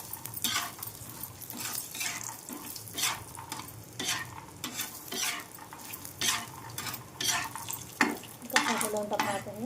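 Dal, peanuts and sesame seeds dry-roasting together in a pan over medium gas, stirred steadily with a utensil that scrapes and clinks against the metal in repeated strokes, with a faint sizzle underneath.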